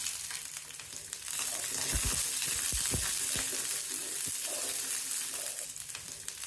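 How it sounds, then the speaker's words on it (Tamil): Onion and garlic sizzle in a few spoons of oil in a pan over medium flame, with a steady close fry and a few spatula scrapes and stirs partway through. "ஒரு பேன்ல 2-3 டீஸ்பூன் அளவுக்கு எண்ணெய் சேர்த்துட்டு வெங்காயம் பூண்டு ரெண்டையும் சேர்த்து அடுப்பை மீடியம் ஃப்ளேமில் வச்சுட்டு கொஞ்சம் வதக்கணும்"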